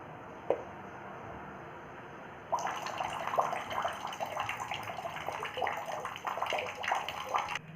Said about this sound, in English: by removing your finger you can start pouring water into the nostril